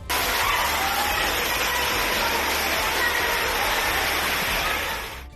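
Rainwater pours into the basement of an engineering college in Amritsar, a loud, continuous roaring rush like a waterfall, dense and unbroken throughout and easing slightly only at the very end.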